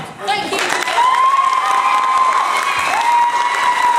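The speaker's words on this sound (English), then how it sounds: "Let's have one more round of applause for our wonderful lads." Applause and cheering from a crowd of parents at a primary school play, sustained and fairly loud, with children's shouts and chatter mixed in over the clapping.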